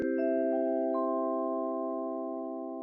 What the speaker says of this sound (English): And we use a vibraphone,